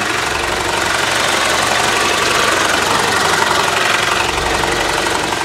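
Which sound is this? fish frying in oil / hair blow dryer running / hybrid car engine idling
hybrid car engine idling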